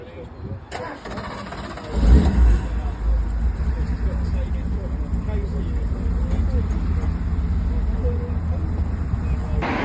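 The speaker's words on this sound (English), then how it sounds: "Sorry about all the noise, there's loads of cars." At a classic and sports car meet, an engine starts and then idles with a continuous rumble close by, mixed with other car engines in a busy outdoor crowd. People talk throughout.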